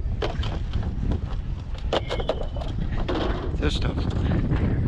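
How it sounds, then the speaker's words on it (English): Strong wind buffets the microphone outdoors on a street while scrap metal is being collected, making a steady, loud rumbling roar with occasional clinks and knocks of handled metal. "Oh man, it is windy."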